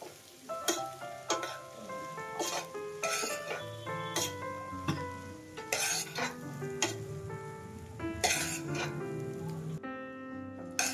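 Poha with potato is stirred in a pan, with a spoon clinking and scraping against the metal in irregular strokes over a soft sizzle, close and fairly quiet.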